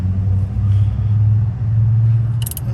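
Road traffic passing close by during roadside car repair, a loud low rumble of engines and exhaust that swells and eases, with a brief metallic clink near the end.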